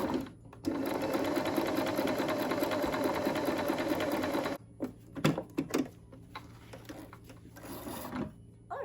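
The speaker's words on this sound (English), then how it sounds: "now it's time to sew it together" A sewing machine stitches lace onto a small doll dress, running in a steady whirring burst for several seconds before stopping, followed by a few quiet clicks and handling noises.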